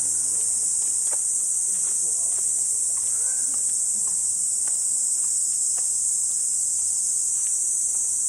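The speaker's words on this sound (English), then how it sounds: "cicadas." A steady, high-pitched insect drone fills the air continuously, like cicadas buzzing in the distance, with faint scattered chirps underneath.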